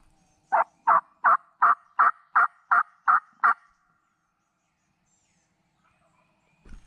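A wild turkey gobbles in a quick run of about nine sharp, evenly spaced calls, clear and fairly close, then silence, during a spring hunt.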